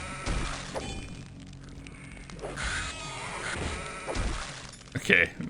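Sheep bleat in the video game Hexen II amid clattering game effects and a voice, with a short bleat rising sharply near the end.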